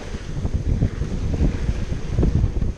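A sailboat's well-shaped bow slicing through the sea and throwing water far to both sides, a steady low rushing wash mixed with wind buffeting the microphone throughout.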